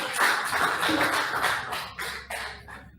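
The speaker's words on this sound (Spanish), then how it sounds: "Vamos a dar un aplauso a nuestra magistrada por estar con nosotros" An audience at a national legal conference claps for a magistrate, a dense burst of close applause that thins out toward the end.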